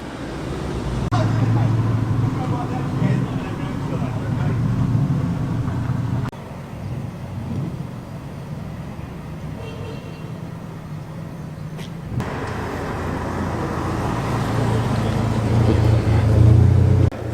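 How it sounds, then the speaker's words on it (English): An AC Cobra arriving at a village transport festival, its engine a steady low rumble that swells louder toward the end as the car draws near, with crowd talk and outdoor ambience throughout. "Cobra arrives."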